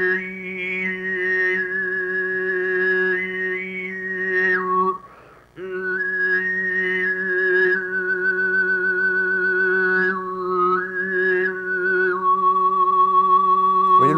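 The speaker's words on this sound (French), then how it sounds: "Écoutez surtout le sifflement de la mélodie." A Mongolian khoomei overtone singer from a 1965 archive recording holds a steady low drone while a bright, whistling overtone melody glides and steps above it. The tone is loud and sustained, with one brief break in the middle.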